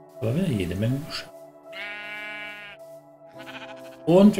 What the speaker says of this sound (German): Aber wieder jede Menge Schafe.